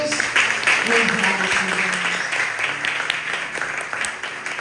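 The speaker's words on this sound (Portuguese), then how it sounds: "Você pode aplaudir a Jesus?" A church congregation at a deliverance service applauds, a steady dense wash of clapping with voices and a sustained tone running underneath throughout.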